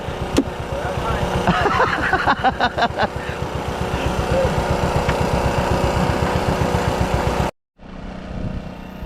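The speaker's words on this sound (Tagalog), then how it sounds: "Namatay yung makina, pinapandarla ni Kabugoy." A small boat engine chugs steadily with a pulsing mid-range drone, then abruptly cuts out for a moment before starting again at a slightly lower, rougher level.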